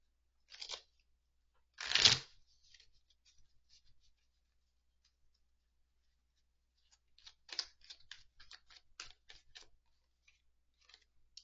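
A deck of animal oracle cards is handled and shuffled, with crisp rustling and a few sharp snaps and riffles. Brief clusters of close, moderately loud card clicks and flutters are separated by quieter pauses, and nobody talks.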